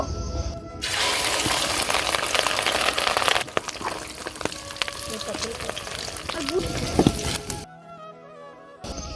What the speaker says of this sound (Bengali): এবার ডিম ভেজে নেব।